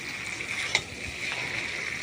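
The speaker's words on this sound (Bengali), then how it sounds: "এটা দিয়ে ভালো করে আমি একটু কষিয়ে নিচ্ছি" Vegetables for Bengali shukto being stirred and sautéed in a pan, a steady close sizzle with occasional scrape and clatter of the spoon against the pan.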